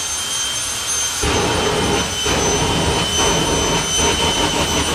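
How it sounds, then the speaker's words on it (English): Jet car on a drag strip at the Euro Finals Shootout, a loud, sustained jet-engine roar that rises sharply and keeps blasting steadily, close and overwhelming, with no voices. "the first jet car run with new guests on Bankside VIP"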